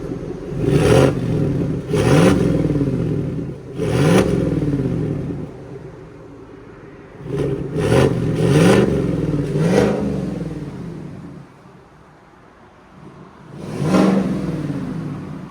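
A 2024 Chevy Silverado RST 5.3L V8's exhaust with a Borla Atak muffler revs hard in repeated loud bursts, each rising and falling, with a lull of rumbling idle before a final blip.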